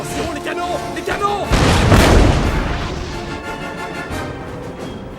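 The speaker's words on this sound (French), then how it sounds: "Attention, les canons! Les canons!" Cannon fire in the video game Total War: Napoleon, a heavy boom bursting in partway through and rolling into a long, fading rumble, with quieter battle noise before and after.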